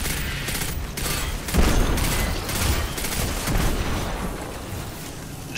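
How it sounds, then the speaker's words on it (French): Weapons fire in the video game Destiny 2 comes as loud, dense, continuous bursts of rapid shots, close and sustained throughout. "J'aime ça que toutes les tirs que je faisais étaient pognés dans les bords"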